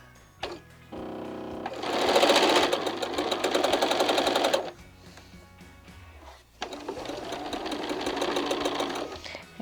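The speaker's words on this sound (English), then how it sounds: "I'm going to line up the corners and I'm going to sew." A sewing machine chain piecing half square triangles stitches in two loud, steady bursts of rapid mechanical whirring and needle chatter, separated by a short pause with small clicks.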